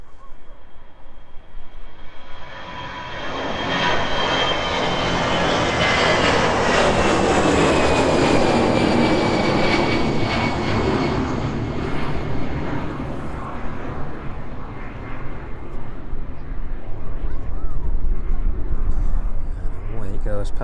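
Lauda airliner climbing away after takeoff from East Midlands Airport, a loud jet roar that swells as it passes close and then lingers in a broad rumbling tail, with someone talking over it.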